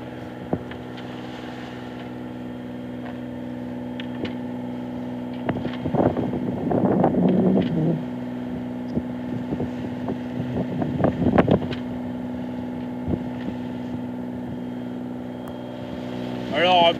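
A sailboat motoring under engine in light wind off southern Scotland, with a steady low drone throughout, some wind noise on the microphone, and brief bursts of people talking nearby.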